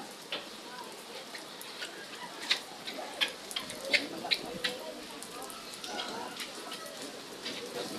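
Rain falling on a busy market street lined with grocery, hardware and wholesale stalls, a soft steady patter with scattered sharper drips and ticks, faint and diffuse throughout.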